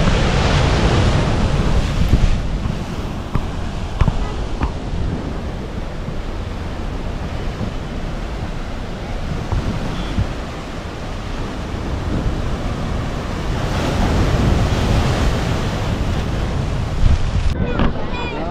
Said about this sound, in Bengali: সমুদ্রে প্রচণ্ড ঢেউ।